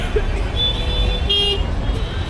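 Busy Jaipur street traffic near the Hawa Mahal, with steady engine rumble and a couple of car horns sounding in the mix, close and dense throughout.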